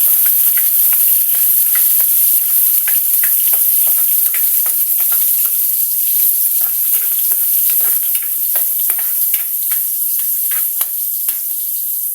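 Garlic and onion fry in a pan with a loud, constant sizzle and crackle that runs the whole time, close up and with no talking.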